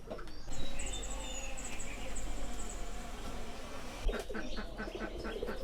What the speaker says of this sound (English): The cool morning air and the sounds of birds create a peaceful scene around him.